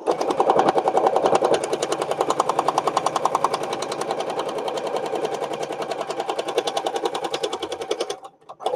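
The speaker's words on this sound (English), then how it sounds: "finish sewing all three together now" A sewing machine stitches a stickpin lace book, running in a fast, steady mechanical rhythm of needle strokes up close, then stopping abruptly near the end.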